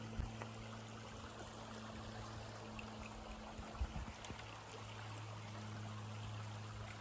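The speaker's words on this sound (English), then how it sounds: "Hello, cute little river stream." A cute little river stream at a trail crossing on the Appalachian Trail flows with a soft, steady trickle and burble, faint and continuous, with a brief low thump of footsteps partway through.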